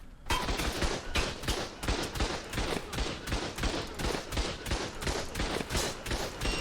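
Rapid automatic turret gunfire in Ark: Survival Evolved during a raid, a dense, continuous rattling barrage of shots that keeps a steady pulsing rhythm from start to finish, loud and close, with no talk over it.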